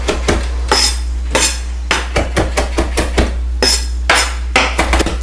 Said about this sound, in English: And then you're going to finely chop the cilantro.